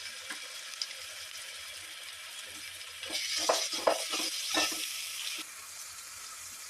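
Ginger garlic paste sizzling in a hot pan for chicken curry, a steady low hiss that swells louder with a few stirring clatters midway before settling back.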